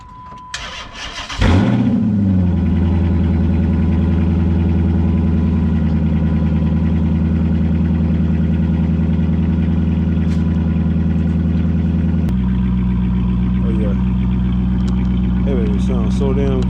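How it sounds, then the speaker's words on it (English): A car engine cranks briefly on a cold start, wired straight to the battery, and catches, then settles into a loud, steady idle that continues close by, with a slight shift in tone near the end. "Get a little cold start action."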